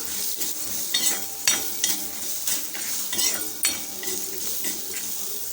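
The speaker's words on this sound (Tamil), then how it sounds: "வெங்காயத்தை சேர்த்துட்டு ஜஸ்ட் ஒரு ஒரு நிமிஷம் அப்படியே கலந்து விட்டுக்கலாம்" Chopped onion and green chili fry in a pan as a spatula scrapes and stirs about twice a second over a constant close sizzle.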